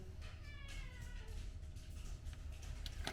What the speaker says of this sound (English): Kitties are meowing at me because they're hungry.